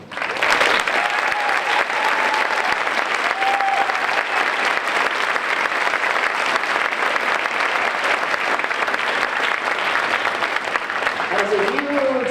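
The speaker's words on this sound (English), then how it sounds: "give a very, very warm round of applause to Jasmine Sinatra." Warm audience applause at a middle school spring band concert, a steady, dense wash of clapping from a large crowd that holds evenly for several seconds, with faint voices and a few brief tones drifting through near the end.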